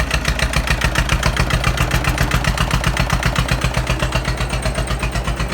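A Chinese four-wheel-drive tractor engine runs steadily at idle nearby, its loud, even diesel chugging pulsing in a fast regular rhythm throughout with no talking.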